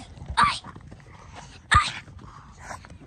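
A dog at play with a ball gives two short sharp barks or yips with soft whimpering between them, close by and fairly loud.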